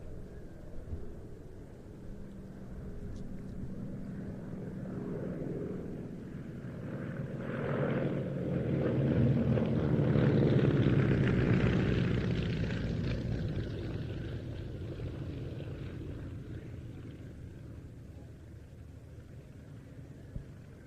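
Two Beechcraft Staggerwing biplanes, first flown in 1934, flying an airshow display, a radial-engine propeller drone that swells from distant to a fairly close peak midway before fading away again.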